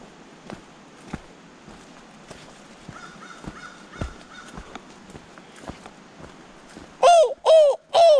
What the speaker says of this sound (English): Come hear the crows.